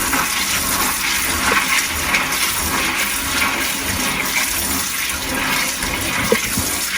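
Tap water runs steadily over dried beans being rinsed before going into a crock pot, a continuous close splashing rush with no talk.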